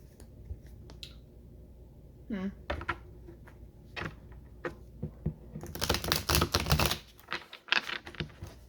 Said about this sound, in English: They want me to shuffle a lot.